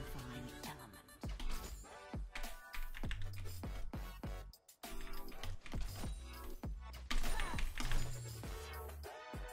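Fingers tap a computer keyboard in quick, uneven clusters of crisp clicks during a League of Legends match, layered over the game's sound effects and music.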